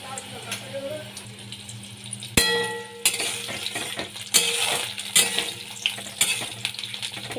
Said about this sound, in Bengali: শোলা কচুগুলো ভাজা ভাজা হয়ে গেছে